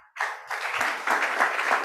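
An audience at a business meeting in Lagos applauds, a burst of dense clapping that starts suddenly and continues steadily at close range.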